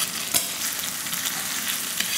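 Shallots and parsley being stirred into a foie gras sauce in a hot pan, giving a steady broadband sizzle with a couple of brief utensil scrapes, close and continuous with no voices.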